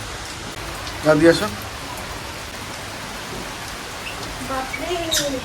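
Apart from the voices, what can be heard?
rain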